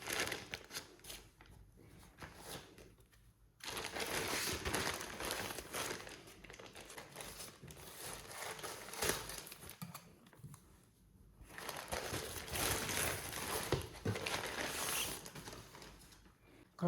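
A beginner's crochet kit arrives by courier and gets unboxed, its packaging crinkling and rustling up close in long bursts separated by brief pauses, with no talking.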